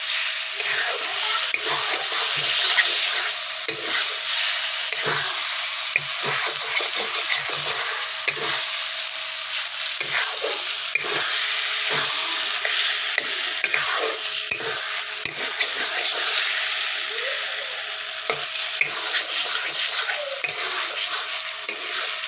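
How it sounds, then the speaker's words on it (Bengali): Mashed eggplant frying in oil in a pan while being stirred, a steady close sizzle with scraping stir strokes running throughout, no voices. "এবার একটু লাগা লাগা করে ভেজে নেব"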